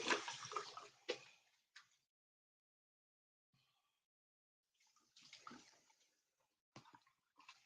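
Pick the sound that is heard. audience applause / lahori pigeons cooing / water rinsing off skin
water rinsing off skin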